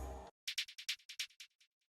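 Percussion hits in a drill beat built in FL Studio, panned right. A rapid, bouncy string of about a dozen crisp, bright taps tails off into quieter echoes after a brief snatch of other sound.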